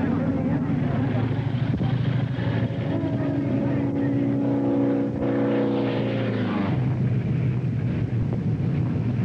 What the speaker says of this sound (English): Doolittle marked his victory with a low pass at full throttle across the finish line.